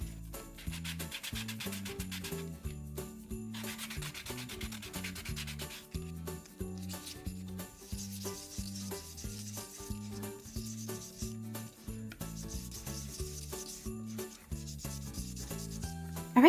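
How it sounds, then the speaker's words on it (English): Repeated rhythmic rubbing and scraping of sandpaper on the edges of a resin trinket dish, close up, in steady back-and-forth strokes over a soft backing of music. "I'm going to use some sandpaper and just sand the edges down."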